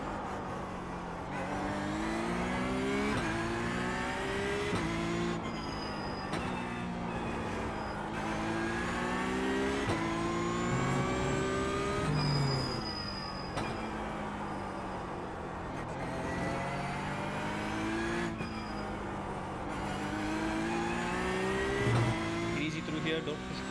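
Porsche Cup race car engine lapping the Nürburgring in a racing video game, revving up and down through repeated gear changes with rising and falling whines, while a person talks over it throughout.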